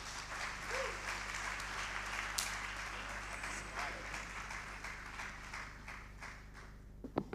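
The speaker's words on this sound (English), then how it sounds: "Another round of applause for him." Audience applause at a youth empowerment summit, sustained clapping from a large crowd filling the room at a steady level, tapering slightly near the end with a few isolated claps.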